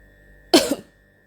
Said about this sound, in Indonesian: Seketika gue tersedak dan batuk.